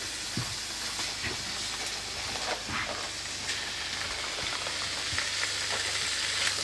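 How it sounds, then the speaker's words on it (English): Sauerkraut sizzling in a hot pan with pork and onions, a steady, loud frying hiss throughout with scattered crackles and the occasional scrape of stirring, no talk. "So now, I'll add the sauerkraut."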